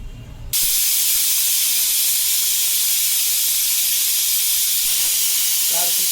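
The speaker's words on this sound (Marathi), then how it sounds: "कुकरच्या 4 शिट्ट्या करून घेणार आहोत" Pressure cooker whistle blasting steam while cooking tender jackfruit with water, salt and turmeric, a sudden loud continuous hiss that holds steadily near the cooker after a brief quiet start.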